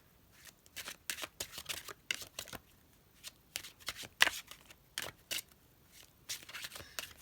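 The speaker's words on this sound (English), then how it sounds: "You guys can feel free to skip through the shuffling." A deck of tarot cards is shuffled by hand close up, a quick run of crisp riffling bursts and soft slaps in an irregular rhythm.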